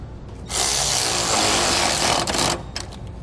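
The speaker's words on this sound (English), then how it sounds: "Now we're going to tighten our nuts down that are holding our brackets on the bottom of our leaf springs." Power tool spinning a 14mm socket to tighten bracket nuts on a 2017 Toyota Tundra's leaf springs, a loud two-second whir followed by a few short clicks and bursts.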